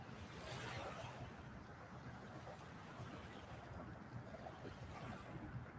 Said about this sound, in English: We could probably just do a show and listen to the waves.